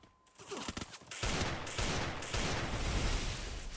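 A rapid, continuous volley of video game gunfire with many overlapping loud shots, beginning with a few scattered cracks and then a sustained dense barrage. Other gunfire mixes in, and no one speaks.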